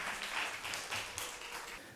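Audience at a Korean literary centenary festival applauding a children's singing group, a soft, fairly distant sustained patter of clapping that fades slightly toward the end.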